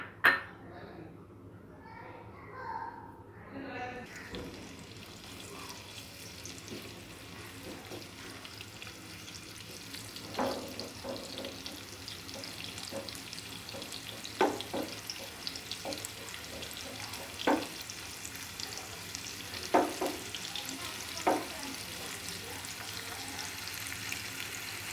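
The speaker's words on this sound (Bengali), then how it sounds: "দেখতে পাচ্ছেন পেঁয়াজ বেরেস্তা হয়ে গেছে" Chopped onion frying in a pan until golden, a steady low sizzle with scattered sharp crackles and occasional stirring clatter, close and fairly quiet, with a short stretch of talking at the start.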